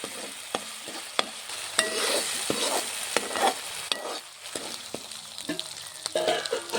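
Masala with green chillies, coriander and turmeric fries in oil in a pan for chicken fry, a steady sizzle broken by frequent scraping stirs and clicks of a spoon against the pan.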